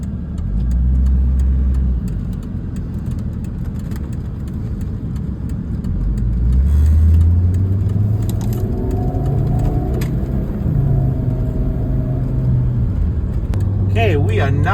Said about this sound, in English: Alright, so we are now going to go on a good test drive with this car.